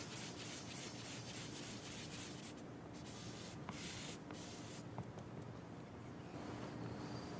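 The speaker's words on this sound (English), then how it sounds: "Moisten the end of the cork and dip it into the cleanser. Use a circular motion." A moistened cork dipped in cleanser and rubbed in circles on a steel kitchen knife blade to remove rust makes a faint, continuous gritty scrubbing. It has soft rhythmic swishes and a few light ticks.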